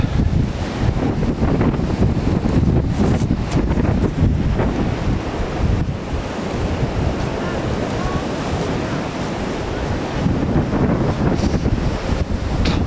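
Off-season Baltic surf at Sopot near the pier: a continuous roar of waves and gusty wind buffeting the microphone, with brief voices faint underneath.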